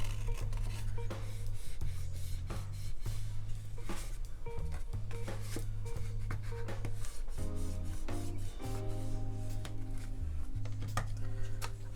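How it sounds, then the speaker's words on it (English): Scissors cutting paper for a handmade gift box, repeated close crisp snips and rustling in an uneven rhythm, quiet and without talking. "So I'm going to cut up on the shorter end to make this box."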